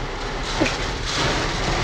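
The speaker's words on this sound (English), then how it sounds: "When that rain hits the sunroof and it just goes." Heavy rain pounds on a car sunroof, a dense, loud, continuous drumming hiss that fills the interior, steady throughout with no voices.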